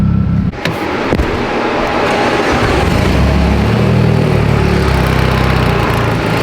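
A turbocharged 2.4L Mitsubishi Evo engine running a Precision 6466 turbo roars loudly and steadily on a dyno pull, a dense sustained drone that builds after a brief dip near the start.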